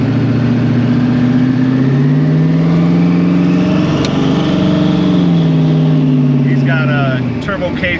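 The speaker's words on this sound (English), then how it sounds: "the cam sounds so much better. It's louder, but it chops." A car with an aggressive camshaft idles loud and choppy, its lumpy engine note rising and falling under a voice talking.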